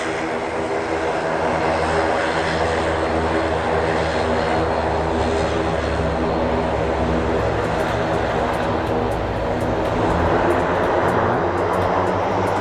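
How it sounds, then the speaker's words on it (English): A CASA propeller airplane at Madeira airport drones steadily with a loud, continuous engine and propeller roar that holds close and even throughout, with no voices over it. "They can do it, little Casa airplane."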